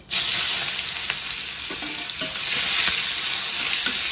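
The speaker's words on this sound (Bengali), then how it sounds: "এবারে দিয়ে দিচ্ছি স্লাইস করে কেটে রাখা পেঁয়াজ।" Sliced onions hit hot oil seasoned with dried red chillies and five-spice tempering, setting off a loud, close, continuous sizzle with occasional stirring clicks underneath.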